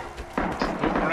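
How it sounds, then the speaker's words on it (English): A grenade blast in the World War II shooter Red Orchestra 2 lands close by as a sudden thump, followed by a rumbling wash of battlefield noise and further distant impacts. "Grenade right in front of me."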